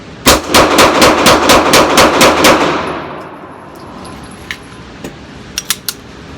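A Dan Wesson Valkyrie Commander 9mm pistol fires a fast string of about ten loud, sharp shots in steady rhythm, then the slide locks back and a few faint metallic clicks and clinks follow in a quiet room.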